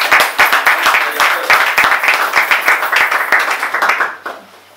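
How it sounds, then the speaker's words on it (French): An audience applauds after a romantic creative piece, with close, brisk clapping that stays full for several seconds and then thins out and fades. "On peut applaudir."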